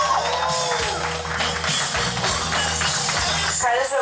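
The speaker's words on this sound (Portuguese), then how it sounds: "Pessoal, uma salva de palmas a ele" An audience applauding in tribute to Carlos, steady crowd clapping mixed with faint cheers and low hum from the room, sustained throughout and moderately loud.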